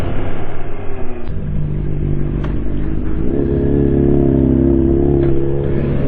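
A motorbike engine runs steadily and loudly throughout, a close, continuous mid-pitched drone with a slight rise in revs partway through and no talk over it.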